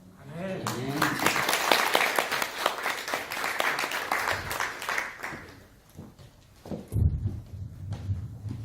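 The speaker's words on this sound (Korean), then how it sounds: "우리 다시 한번 성가들을 위해서 힘차게 박수 한번 주시기 바랍니다" A church congregation at a Korean church in Hanoi applauds the choir with a burst of lively clapping that fades after about five seconds, followed by a speaking voice and a few bumps.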